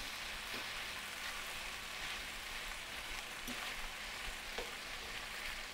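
Cubes of chicken sizzling in a hot pan as they are stirred, a steady, fairly soft crackling hiss with occasional small pops throughout.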